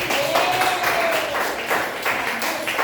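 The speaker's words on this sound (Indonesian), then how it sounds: "Berikan tepuk tangan untuk dirinya sendiri." Applause in a classroom, a short burst of several children clapping unevenly, with a faint voice over the top.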